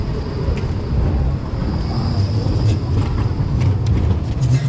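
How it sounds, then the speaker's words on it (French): Tram rolling through Marseille city centre, a steady low rumble with broad wind-like noise, continuous and fairly loud throughout with no talk. "On va laisser passer les tramways."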